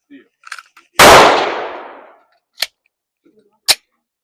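Shots fired at a shooting range after a trigger install: one loud close blast with a long ringing decay, then two sharper, quieter reports spaced about a second apart, with faint clicks and handling noise between.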